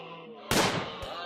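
A single gunshot in the colony-sim game RimWorld, one abrupt broadband crack with a short decaying tail, heard over a low steady game background with no talk.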